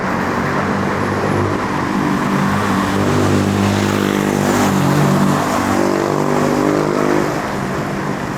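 Car on a city road passing a cyclist, a steady engine rumble that swells as it draws near and fades slightly, over continuous traffic and wind noise.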